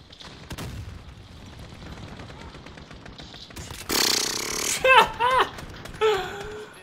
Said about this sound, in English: Bro, using just the shotgun.